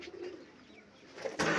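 Golden high-flyer pigeons in a fancier's loft give soft, low cooing calls nearby, fairly faint, ending in a sudden rustling burst like wing flaps.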